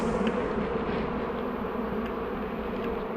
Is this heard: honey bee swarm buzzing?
yes